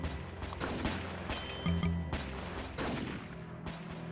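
Rapid bursts of gunfire from a Roblox SCP Tower Defense match, dense overlapping shots layered with game sounds and music, loud and continuous across the clip.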